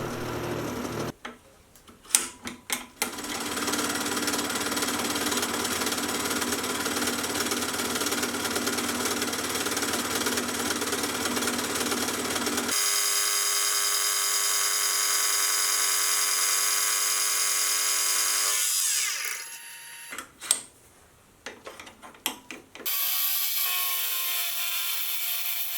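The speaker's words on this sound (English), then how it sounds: "I'll do the first few passes with the face mill to remove a bulk of the material" Face mill taking bulk passes across a metal workpiece on a milling machine, a steady broadband cutting whine with a strong tonal hum, interrupted by brief stops and restarts, loud and close with no talk.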